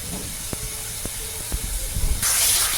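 Water splashes into frying masala for a bhetki fish-bone dish, and a sudden loud steamy hiss bursts up near the end after a few soft clinks and stirring knocks, close by.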